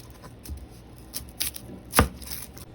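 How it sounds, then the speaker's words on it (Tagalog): A kitchen knife cuts onion on a board for sautéing, producing a few irregular soft chops close by, followed by one sharper, louder knock and lighter taps. "Hiwang panggisa naman ang gawin natin sa sibuyas."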